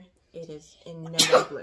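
A single sharp sneeze bursts out close and loud right after a person speaks, with a voice continuing briefly into it.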